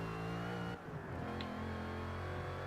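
A Ford GT engine in a racing video game drones steadily, with a brief dip as it shifts gear before climbing again, loud and continuous with no talk.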